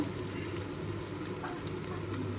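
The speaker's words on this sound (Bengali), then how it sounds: "পেঁয়াজটা লাল লাল হওয়া পর্যন্ত আমি ভেজে নেব খুব সুন্দর করে।" Chopped onion and grated ginger fry in a pan with oil for a prawn cutlet, producing a steady, close, even sizzle with no talking.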